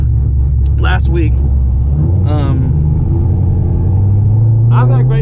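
A C6 Corvette tuned to 510 wheel horsepower drives along with a deep, steady engine rumble heard from the cabin, while people talk over it intermittently.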